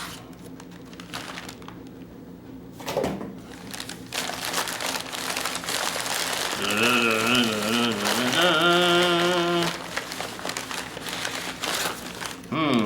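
Paper and cardboard crinkle and rustle as the box for a Demko AD20.5 Shark Lock folding knife is opened, close and fairly busy, with someone talking throughout.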